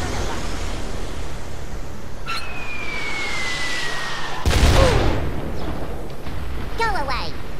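A grenade in the Worms W.M.D video game lands and detonates with a sharp, loud burst and a short rumbling tail, following a whistling throw and preceding chirpy game effects over constant background noise.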